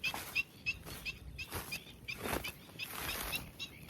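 Noisy birds calling repeatedly by the water at a fishing spot, sharp chirps and squawks in irregular bursts over a soft background hiss, fairly close and without talk.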